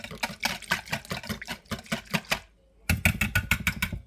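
A whisk beats wet ingredients with garlic salt in a bowl, a rapid rhythmic clatter that breaks off for a moment and then resumes.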